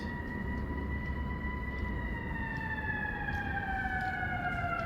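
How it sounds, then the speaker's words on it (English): A New York Police Department car siren holds a steady tone then slowly drops in pitch, with a low rumble of traffic beneath it. "New York Police Department using their sirens"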